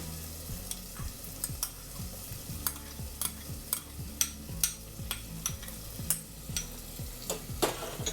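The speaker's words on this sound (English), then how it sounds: "I'm going to go ahead and add the tomato sauce." Chorizo sizzles in a pan as tomato sauce goes in and gets stirred, with a steady frying hiss, low rhythmic scraping strokes and sharp spoon taps against the pan.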